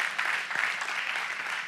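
An audience claps at a talk, a short burst of steady, moderately close applause from a crowd that continues evenly throughout.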